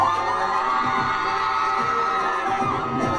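Fans scream in a dense, continuous crowd roar with shrill shouts and whoops, loud and steady throughout.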